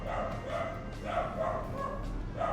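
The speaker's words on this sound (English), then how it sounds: "The guard dogs are making their presence known." Guard hounds barking in Star Wars: The Old Republic, a repeating series of mid-pitched barks over a steady game background hum, moderately loud with no talk.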